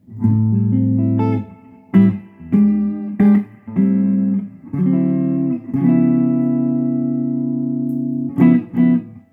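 Electric guitar playing sustained chords and short phrases through an amplifier, with reverb and a thick effected texture; loud and close, pausing briefly between strums.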